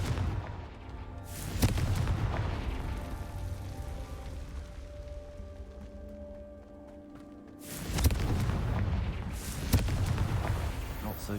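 Confringo blasting spells explode in the Hogwarts Legacy video game: two loud booming bursts, one early and one later, each followed by a rumbling decay over a low game soundscape.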